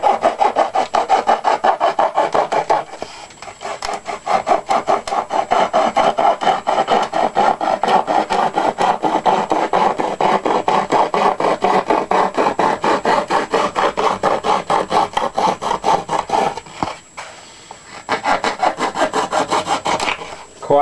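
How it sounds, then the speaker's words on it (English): A hacksaw blade wrapped with a bit of tape rasps through the fuselage sheeting of a Sopwith Pup model aircraft in quick, steady back-and-forth strokes, close and loud, pausing briefly twice. "I'm using just a hacksaw blade with a bit of tape on."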